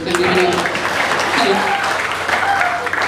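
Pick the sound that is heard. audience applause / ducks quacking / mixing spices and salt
audience applause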